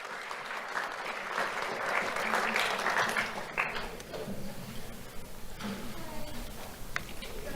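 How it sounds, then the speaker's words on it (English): An audience claps for a child receiving a Do The Right Thing award from the Lee County Sheriff's Office. The applause is steady and moderately loud, then thins into scattered claps and tapers off. "Let's have a round of applause for Aylin Divis."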